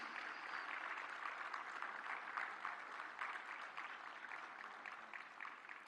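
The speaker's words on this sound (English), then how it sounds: "And a round of applause on the release of HTA Technologies Compendium by the Honorable" Applause at an international health symposium's inaugural session as a minister releases an HTA technologies compendium, a hall full of hands clapping steadily, heard from a distance and fairly soft, tapering slightly toward the end.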